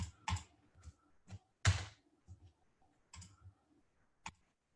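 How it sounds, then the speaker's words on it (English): Computer keyboard being typed on in short irregular bursts, a few scattered clicks and key thunks separated by quiet gaps, close and fairly soft. "I'm hitting the wrong keyboard."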